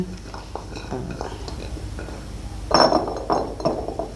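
Glass bottles clink and knock as honey-pickled garlic is bottled, a few light, close taps and a louder cluster of clinks later, under a woman's speech.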